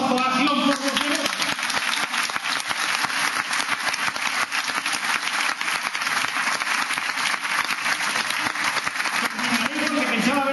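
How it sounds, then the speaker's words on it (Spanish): Steady, loud applause from an audience at a Valencia political rally fills the space, dense clapping sustained without pause for about ten seconds, with a brief voice at the start and end. "vuestros aplausos inmerecidos me hacen tomar más"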